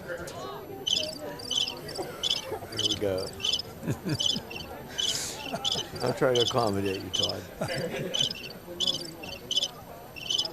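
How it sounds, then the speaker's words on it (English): Steady, rhythmic cricket chirps repeat throughout at an outdoor high school powderpuff football game, pulsing in regular bursts beneath a voice talking over them. "You hear the crickets up here?"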